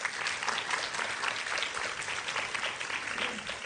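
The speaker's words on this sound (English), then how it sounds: "That's a round of applause for our panelists" An audience at a campus panel event applauds the panelists, with a sustained burst of steady, moderately loud clapping from many hands throughout.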